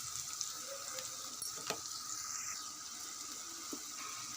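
Onions frying gently in a pan, a soft continuous sizzle with an occasional light scrape or tap of a spoon, quiet and close, no voices.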